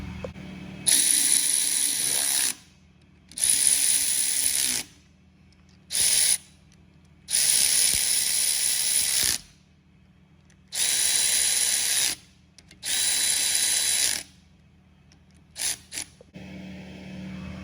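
Power ratchet snugging the bolts on a Dana 44 axle cover, heard as about seven loud, close whirring bursts of one to two seconds each, separated by brief quiet gaps, with no talking.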